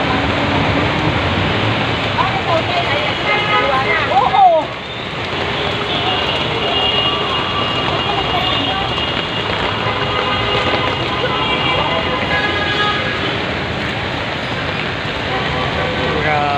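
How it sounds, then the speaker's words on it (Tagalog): Steady heavy rain pours in a dense, constant roar, with voices talking over it throughout. "Lalo pag ganitong malakas ang ulan."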